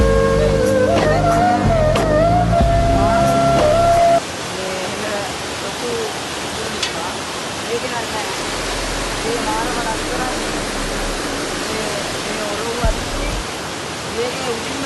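Water pours down from above at a waterfall near Maha Urulewa village, a dense, loud, continuous roar that takes over after a few seconds of music.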